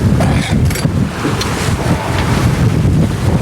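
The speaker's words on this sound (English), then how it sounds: "We've got perhaps a steady 10 knots of wind with puffs up to perhaps 13." Strong wind gusting across the water aboard a sailing boat in a harbor, buffeting the microphone loudly and continuously, with waves washing beneath and no one talking.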